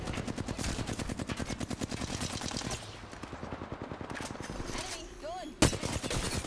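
Video game gunfire in a competitive esports playoff match: rapid sustained automatic bursts for several seconds, then sparser shots and a sharp loud crack near the end, with game effects mixed in.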